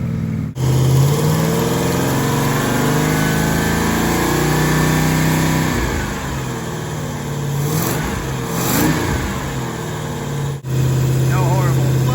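A Mopar 440 six-barrel V8 fresh from a rebuild runs steadily up close, its idle swelling into a few sharp revs before settling back to a smooth, loud rumble; a person talks briefly over it.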